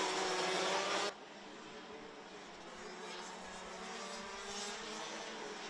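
DD2 racing karts at a Rotax Euro Trophy heat in Kristianstad, a loud engine roar cutting off abruptly, then a steadier distant drone of karts passing around the track.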